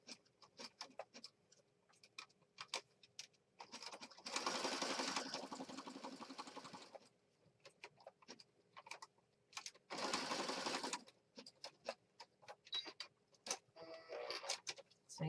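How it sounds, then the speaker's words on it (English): A sewing machine stitching on a junk journal page runs in two fast, whirring bursts of several seconds each, with clicking and handling noises from repositioning the needle and presser foot in between. "I position my needle down and over to the right, and then I'll pick up my pressure foot, and then I start stitching again."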